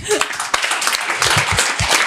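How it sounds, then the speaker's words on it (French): A group of people applauds itself at the end of a business tech discussion, a short burst of clapping mixed with talk and laughter nearby. "merci à tous, on peut s'applaudir"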